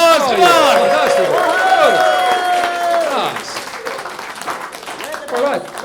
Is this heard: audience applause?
yes